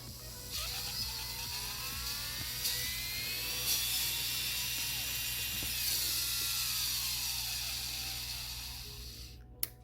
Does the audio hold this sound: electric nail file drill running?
yes